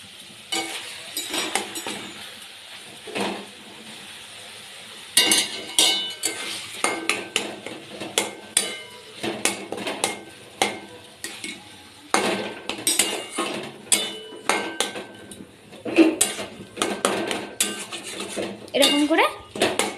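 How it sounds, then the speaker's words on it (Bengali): Taro leaves tossed with fried shrimp in a pan, with repeated clanking and scraping of a utensil against metal in irregular bursts after a quieter start, and faint sizzling underneath. "কচু পাতাটা দিয়ে ভালো করে নেড়ে চেড়ে নেব।"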